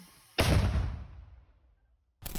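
A single loud artillery shot booms close by on a front line near Avdiivka, its blast decaying over about a second and a half before another sharp burst begins at the end.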